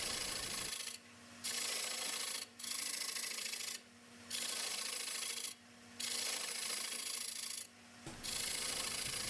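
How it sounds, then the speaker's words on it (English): A round nose scraper takes tiny cuts in wood on a lathe, shaping concave rings from the inside out. Five rasping, rubbing passes come in steady rhythm, each separated by a short pause, close and fairly loud over a constant low motor hum. "I'm using my round nose scraper this time. I'm just taking tiny little cuts from the inside out to create the concave rings."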